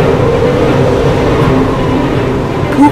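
Train called Snowpiercer running, with a steady low rumble and rolling rail noise throughout, loud and continuous, with a faint higher squeal near the end.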